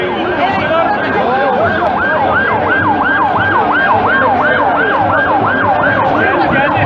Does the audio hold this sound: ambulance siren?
yes